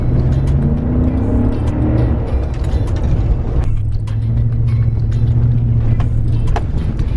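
A Kawasaki KX450X dirt bike ridden on a gravel desert trail, its engine running loud and steady with continuous rattling, clattering mechanical noise and crunching throughout.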